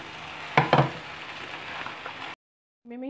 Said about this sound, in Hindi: अब मैं साथ ही इसके अंदर डालती हूँ मैक्रोनी। और इसको सारे को कर देती हूँ मिक्स।